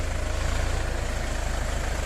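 A DEUTZ-FAHR 40 hp mini tractor engine runs at a steady idle, a close, even low rumble with a regular pulsing beat and no voices over it.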